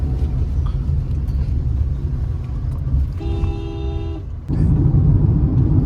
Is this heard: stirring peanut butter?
no